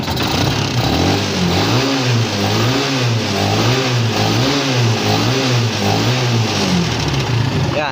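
A Kawasaki Barako motorcycle engine, smoky and burning oil, runs steadily at a low, loping idle, with rhythmic pulsing revs close by and a constant rumble throughout.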